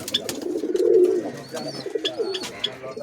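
Pigeons kept in paired cages in a dim loft coo steadily and close, soft rolling calls with a few faint chirps and little else around them.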